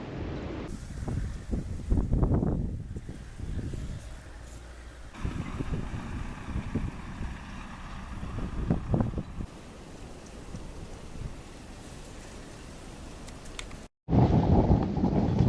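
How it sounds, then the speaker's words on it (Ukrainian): Strong March wind at a fishing pond buffets the microphone in rough, uneven gusts, with low rumbling and rustling throughout, loud and close. "Вітер ще сильний."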